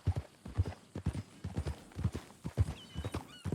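Horse hooves clip-clopping in a steady walking rhythm from a horse in Red Dead Redemption 2, close and fairly loud, with a faint whinny near the end.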